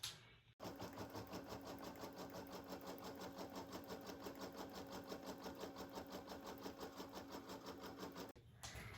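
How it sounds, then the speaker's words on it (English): An embroidery machine runs a tack down stitch on fabric for an in-the-hoop stuffed bear, a steady, rapid mechanical chatter with even pulsing that holds for about eight seconds between short pauses at each end. "I'm gonna take it back to the machine, and I'm gonna hold it while it does the tack down stitch"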